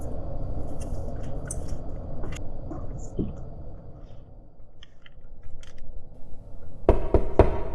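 Several sharp knocks land near the end, a quick cluster of hard raps after a stretch of low, muffled background rumble.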